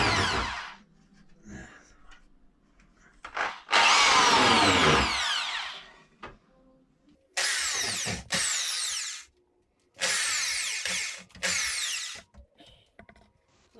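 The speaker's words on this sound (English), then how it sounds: "So we're drilling pilot holes in each of the panels just to make sure it doesn't split the wood when we do the screws." A power drill bores pilot holes into wooden panels, running in several loud whirring bursts separated by pauses, close to the microphone, during installation of a Bush condenser dryer.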